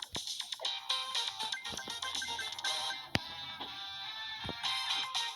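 A phone ringtone plays steadily and loudly through the whole stretch as a call is placed and goes unanswered, with no talking over it.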